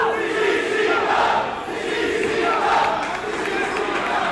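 Live pro wrestling crowd at an indoor event roaring and cheering in a dense, continuous wash of voices, swelling and dipping slightly, with faint announcer commentary underneath.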